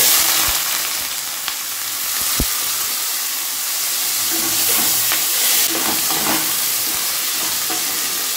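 Mixed vegetables fry loudly in hot oil tempered with cumin seeds and bay leaf, a dense continuous sizzle up close, punctuated by a few sharp clinks and scraping stirs of a spoon against the pan.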